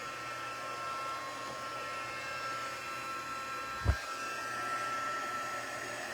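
A heat tool blows a steady, loud whirring roar while melting gold embossing powder on a card, with one brief thump partway through.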